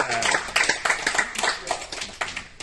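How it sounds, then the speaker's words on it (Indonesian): A small group clapping in a quick, fairly close burst of applause lasting a few seconds. "Tepuk tangan buat saya."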